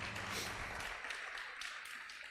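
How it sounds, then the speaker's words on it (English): Welcoming applause from a forum audience at a state senate candidate event, greeting a senator; soft, fairly distant, continuous clapping that slowly thins toward the end. "Can we have a welcoming round of applause for Senator Petersen?"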